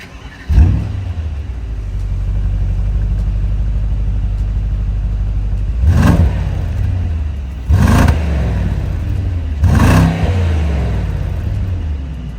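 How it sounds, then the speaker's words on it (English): A Mercedes-AMG V8 engine idles with a deep, loud rumble, then gives three sharp revs a couple of seconds apart, each one flaring up and settling back to the burbling idle. "let's pay homage to the end of that era with this glorious AMG soundtrack"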